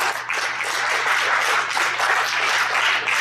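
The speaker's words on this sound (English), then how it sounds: "Give him a big round of applause." Audience applause at a public safety technology conference, a steady wash of many hands clapping throughout, with no talk over it.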